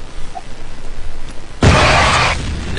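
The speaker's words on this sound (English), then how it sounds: "Grenade!" A grenade going off in a video game: a quiet stretch of low background hiss, then one sudden loud, close blast with a broad roaring tail lasting about a second.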